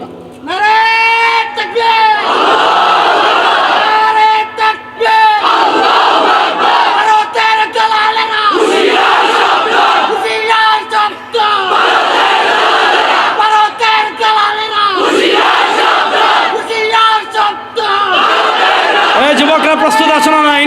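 A large rally crowd roars the Nara-e-Takbir slogan in loud, repeated call-and-response bursts, massed voices swelling and dropping in rhythmic waves close by.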